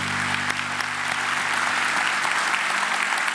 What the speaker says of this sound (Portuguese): E vamos aplaudi-lo, né, pessoal?